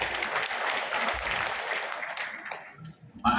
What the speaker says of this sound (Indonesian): Tepuk tangan untuk Kang Rijal.